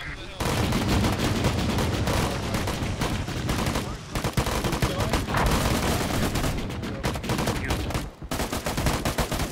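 Sustained close gunfire in an Arma 3 firefight in Afghanistan, dense rapid bursts and volleys nearly continuous for the whole stretch, loud and busy with brief lulls, voices faintly mixed in.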